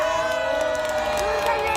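A brief burst of crowd cheering and clapping rises at an outdoor rally in the plaza in front of Seoul City Hall, greeting a union vice-chair. Voices mix into the crowd noise.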